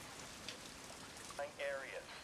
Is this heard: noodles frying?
no